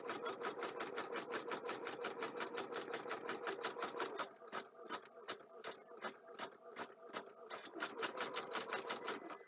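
A domestic sewing machine stitches in a steady, fast mechanical rattle, running continuously and close, with a brief dip in pace midway, during a casual craft session.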